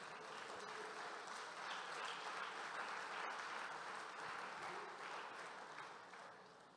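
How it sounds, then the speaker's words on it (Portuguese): A church congregation applauds together during a Portuguese-language sermon, a sustained wash of clapping from many hands that holds steady and then begins to fade near the end. "Aplauda o Senhor Jesus."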